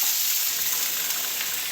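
Drumstick stems for a Bengali chorchori fry briefly in a pan, giving a steady, close, even sizzling hiss with no voices.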